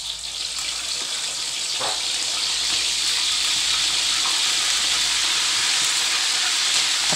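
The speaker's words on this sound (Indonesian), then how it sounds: "sekarang kita goreng dulu ya cekernya" Chicken feet fry in hot oil with a steady, dense sizzle and crackle that holds loud and even throughout, close to the pan, with no voices.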